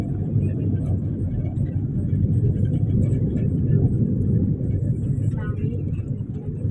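Vehicles rumble past on a road in the Philippines as heard from inside a van, a continuous low engine and tyre drone. Voices talk over the steady traffic.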